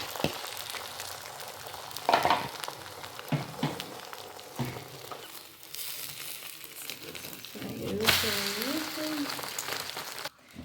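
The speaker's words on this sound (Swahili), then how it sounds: "Tunakaanga mayai yetu." Eggs frying in a pan with onion and carrot, a steady moderate sizzle with intermittent stirring scrapes and clatters, and a voice briefly speaking over it.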